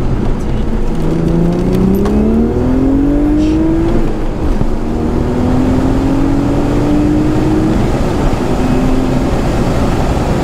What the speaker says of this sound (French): J'ai demandé à Clément s'il pouvait m'emmener faire un tour seul pour que je vois la réelle accélération